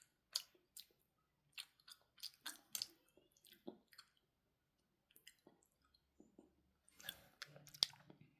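Soft, wet chewing and squishing noises of someone eating a Swedish jelly candy up close, in irregular bursts separated by quiet pauses.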